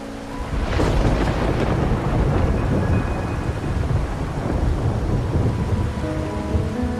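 Heavy rain pours steadily with a deep rolling rumble of thunder throughout, dense and close, in the rainy Raguna area of the video game Wuthering Waves.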